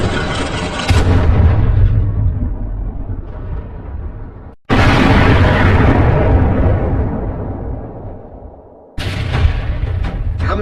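A tank's assault on a camp in a war film sets off massive explosions, with long, loud roaring blasts that surge, decay into rumbling debris, then hit again in successive waves, and no one talking.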